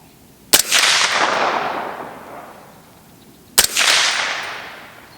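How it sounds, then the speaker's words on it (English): Two loud, sharp rifle shots from supervised firing of 300 Blackout and 7.62x39 ammunition, supersonic and subsonic, fired outdoors a few seconds apart, each followed by a long rolling echo. "it's time to shoot a bunch of guns"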